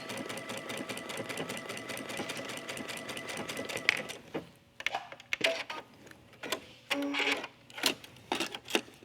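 A sewing machine stitches a tab onto a sleeve, running as a fast, even rattling stream for about four seconds, then stopping and giving way to scattered short bursts and handling clicks.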